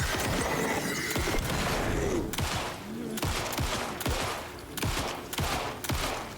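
Repeated gunshots ring out in Alan Wake II, sharp loud cracks firing in bursts at an irregular, quick rhythm, layered over a constant dense background rumble with squealing tones.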